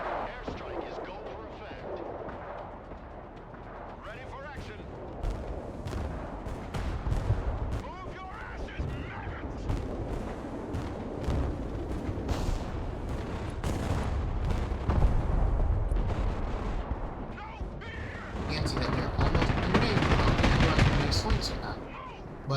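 Airstrike explosions in Broken Arrow, a long barrage of heavy booms and crackling blasts rolling continuously for over twenty seconds, with peaks of louder impacts scattered throughout.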